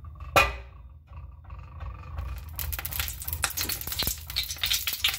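Oil heating in a kadai (vadai chatti) for tomato gotsu sizzles with a soft crackle that builds into steady, busy spattering, preceded by a single sharp clatter near the start.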